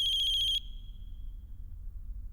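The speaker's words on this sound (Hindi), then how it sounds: "किसका फोन" A phone ringtone plays during an episode of the Hindi TV comedy May I Come In Madam 2: a loud, bright pulsing electronic tone that cuts off after about half a second, leaving low room hum.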